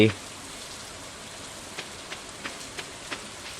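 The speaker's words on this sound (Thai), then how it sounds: "แต่วันนี้ฝนตกด้วยนะฮะ" Rain falls in the video game Stardew Valley, a soft steady patter with a few light taps at regular intervals after a brief opening thump, fairly faint.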